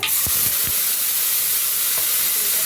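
A spice tempering hits hot oil for pumpkin greens with poppy seed, crackling into a loud, dense sizzle, with a few quick stirring knocks in the first moments and again near the middle.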